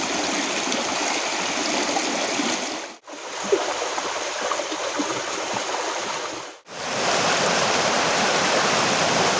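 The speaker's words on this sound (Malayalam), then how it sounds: "ഇതുപോലെ ചെറിയ ചെറിയ വെള്ളച്ചാട്ടങ്ങളുണ്ട്, വളരെ കുഞ്ഞ്" Small waterfalls and a stream at Choriyankunnu, a steady rushing flow of water heard close, broken by two brief gaps.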